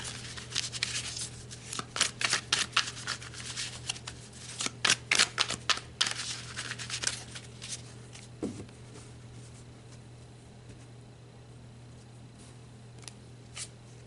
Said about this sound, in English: let's pull some more cards to dig deeper into your 3D connection